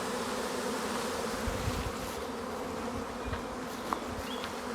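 Honeybee swarms filling the air around hives at an apiary, a dense, steady buzzing drone with individual bees passing close to the microphone.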